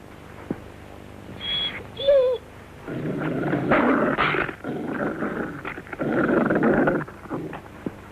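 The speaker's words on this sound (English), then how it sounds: "He's just a dog" A dog whines briefly, then growls low and steadily close by, in several rumbling bursts with short pauses between.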